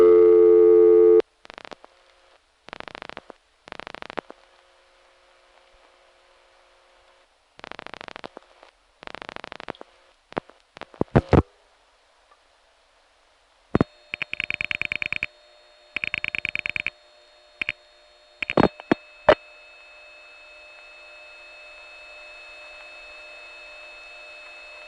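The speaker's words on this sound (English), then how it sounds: "Here we have N1 carrier and N3 family carrier noise combined" A telephone call over combined N1 and N3 carrier trunks, full of tones, clicks, hiss and carrier noise bursts that come and go in uneven blocks, with brief ringing and switching sounds.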